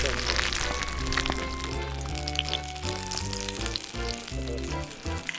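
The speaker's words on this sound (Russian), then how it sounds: "Обжариваем до золотистой корочки." Steak fries in butter in a hot pan, crackling and sizzling steadily while music with sustained tones plays loudly over it.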